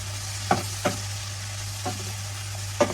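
Mushrooms sizzle in melted butter in a pan, a steady low frying hiss broken by a few sharp stirring scrapes spaced about a second apart, with no voices.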